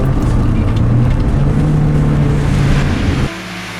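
A Volkswagen Scirocco 16V with about 180,000 miles takes a corner, its engine droning loud and close with a rising, steady tone before the note drops abruptly near the end as the throttle lifts.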